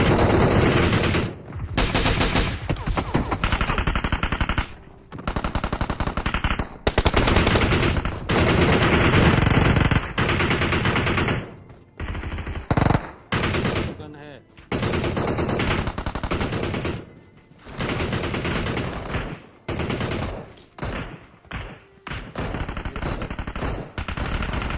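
Machine gun fire in a battle royale video game with M416 rifles comes in long, loud, dense bursts separated by brief gaps, close and dominant over everything else.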